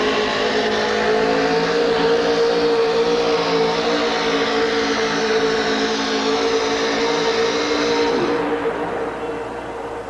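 Wally Harvell's Blue Max truck, a United States Hot Rod Association pulling truck with a big block Ford 572 cubic inch engine, roars at sustained high revs, loud and steady, tapering slightly near the end.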